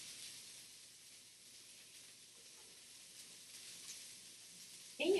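Walnuts toasting in fat in a hot pan give off a faint, steady, quiet sizzle and hiss throughout, ending with a sudden louder knock or clatter.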